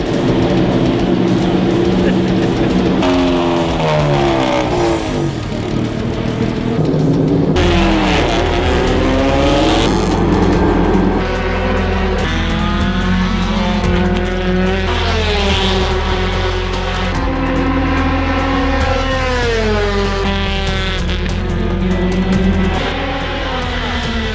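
A race car pulls out along the pit lane at an Indianapolis Motor Speedway test, its engine loud and steady with rising and falling revs throughout, while a backing track and other sounds mix in around it.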